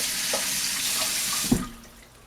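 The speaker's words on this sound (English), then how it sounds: "Rinse the knife." A kitchen tap runs steadily while a knife is rinsed under it: a constant close water hiss with a brief clink partway through, then the flow fades.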